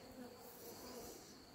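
Bees swarm around an open beehive during an attack, producing a steady, faint, continuous buzzing with no pauses throughout.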